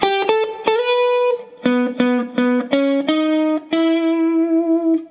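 An electric guitar plays a lick from the Munsters theme with a distorted, effected tone: a run of clipped single notes picked in a bouncy rhythm, then a longer held note ringing out at the end, close and clear.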